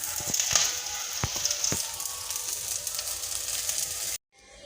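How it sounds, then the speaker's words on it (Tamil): Ingredients for a non-vegetarian idli podi spice powder dry-roast in a pan, giving a steady close sizzle and crackle with a few sharp pops, then cutting off abruptly. "இன்னும் கொஞ்சம் வறுத்துச்சுன்னா போதுங்க. இப்போ அடுப்பு ஆஃப் பண்ணிக்கலாம்."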